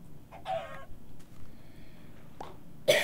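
Sheep in a video game bleat in two short, separate calls, one early and one at the very end, with quieter game sounds in between.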